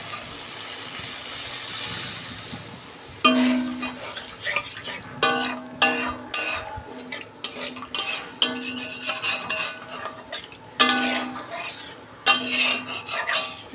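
Coconut milk goes into a cooked masala in a pan for prawn malai curry. A quiet stretch comes first, then loud, uneven stirring clatter and scraping of a utensil against the pan over a soft sizzle, with no talking.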